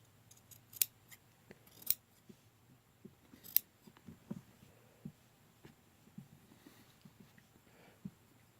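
Scissors snip through material for the paw pads of a costume, giving a series of separate close, sharp cuts spaced irregularly over a quiet low hum.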